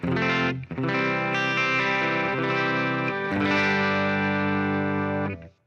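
Electric guitar played through an amp simulator plugin with the gain turned down, sustained chords ringing out clearly and loudly, a brief break early on, then fading at the end with no voice over it.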